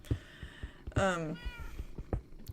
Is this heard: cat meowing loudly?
yes